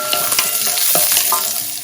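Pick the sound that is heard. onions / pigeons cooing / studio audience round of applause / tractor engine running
onions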